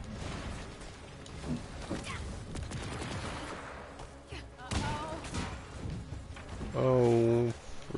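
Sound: turret firing in video game Marvel's Avengers

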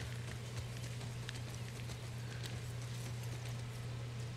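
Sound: horse hooves walking in video game The Last of Us Part 2

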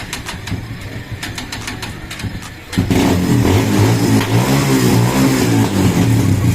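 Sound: Kawasaki Barako 175 motorcycle started with electric starter, engine running

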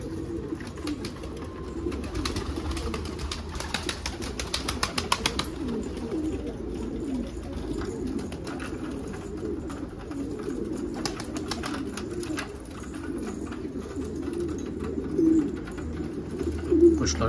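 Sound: pigeons cooing in a loft

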